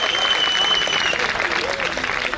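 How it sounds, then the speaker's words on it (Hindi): An audience applauds to welcome a song at a live stage performance, with loud, dense, sustained clapping throughout and a faint tone ringing above it. "जोरदार तालियां बजाकर मेरे गीत का स्वागत करिए।"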